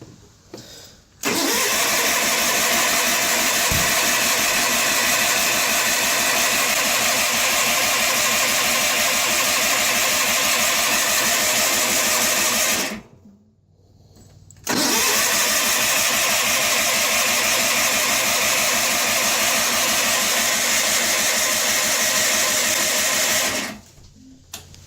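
A John Deere lawn tractor engine is cold-started with the choke: a loud, steady, buzzing run for about twelve seconds cuts out abruptly, then restarts after a short silence and runs evenly again before stopping near the end.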